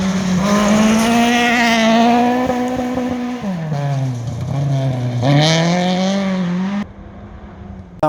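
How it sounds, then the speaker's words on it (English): Ford Fiesta ST two-wheel-drive rally car at the 2019 Darling 200 gravel rally, its engine loud and close with a rising and falling rev note as it drives past, fading away near the end. "This time it was Raz and Iona Vlad in their Ford Fiesta ST."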